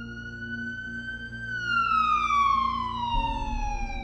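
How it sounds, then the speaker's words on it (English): An ambulance siren wails in one long rising and falling sweep, loud and fairly close, with traffic rumble underneath and no talk. "I could hear that siren."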